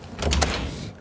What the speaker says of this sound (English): Better unlock this door.